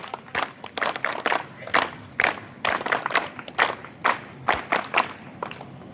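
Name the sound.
crowd clapping, hero clap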